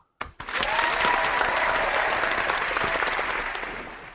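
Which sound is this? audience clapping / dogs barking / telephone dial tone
audience clapping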